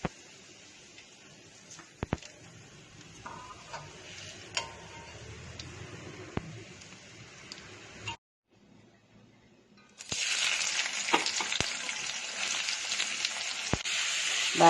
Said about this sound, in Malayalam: ബാക്കിയുള്ള സവാളയും ഫ്രൈ ചെയ്തെടുക്കാം.